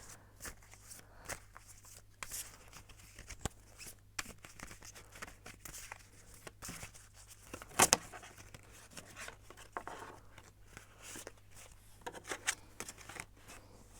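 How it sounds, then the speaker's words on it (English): Soft, irregular riffling and tapping of tarot cards being shuffled by hand, quiet and close, with one sharper snap partway through. "I'm gonna shuffle the cards and see what the cards have to say."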